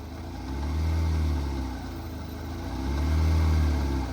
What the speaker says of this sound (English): Blower surge on a little Tarago,